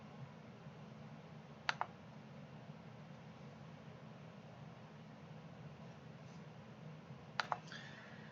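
Two soft, brief mouse clicks select the OK button in brewery management software, several seconds apart over a steady low hum.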